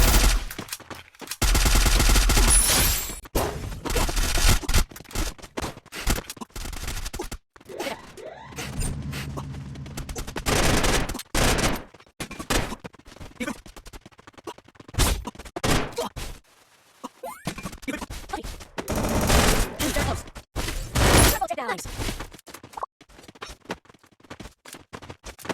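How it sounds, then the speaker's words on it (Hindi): Heavy gunfire pounds a gloo wall in the video game Free Fire, loud bursts and rapid volleys broken by impacts, thuds and brief pauses throughout. "हमने उसको बड़ा ज़्यादा गोलियों से उसकी ग्लूवॉल तोड़ी और उसको मार"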